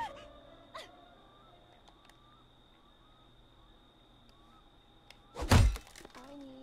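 A heavy blow strikes a wooden house door in Friday the 13th: The Game, a single loud close thunk with a cracking edge, coming after quiet stretches of faint scattered game sounds and bird-like chirps.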